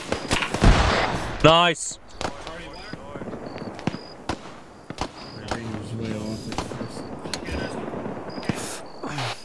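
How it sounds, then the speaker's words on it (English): Gunfire rings out in an ARMA 3 military firefight around a barn, a loud close burst up front and then scattered sharp single shots, mixed with frequent radio chatter and voices talking throughout. "We're taking too much fire."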